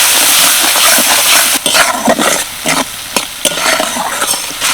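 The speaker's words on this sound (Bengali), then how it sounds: "এবার মশলাটা ভালো করে কষিয়ে নেব" Spice masala frying in hot oil for a paneer dish, a loud continuous sizzle with repeated scraping strokes of a spatula stirring the pan.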